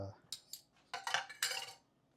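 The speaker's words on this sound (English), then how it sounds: "Time to do the dishes." Dishes and cutlery clink and clatter in several short, bright bursts at close range while washing up after baking ciabatta bread, with quiet gaps between the knocks of metal and crockery.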